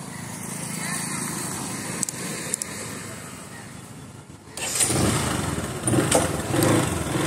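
Motorcycle engine under a rider, a steady close drone that dips, then swells louder with rising revs and wind rush toward the end, with a couple of brief clicks partway through.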